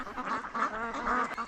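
Ducks on a Lianzhou duck farm holding about 2000 birds quack close by in a few overlapping nasal calls, clear and with no talk.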